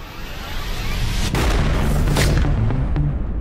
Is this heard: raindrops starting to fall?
no